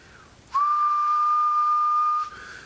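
A single steady, loud whistle into a radio microphone on a Cobra 29 CB radio holds one pitch for nearly two seconds, starting and stopping abruptly, with faint hiss before and after.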